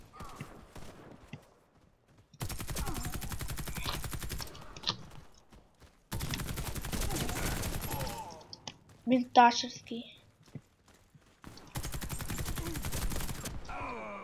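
Automatic rifle fire in the shooter game Warface, heard as three long, loud, rapid bursts separated by pauses, with someone talking in the gap between the second and third bursts.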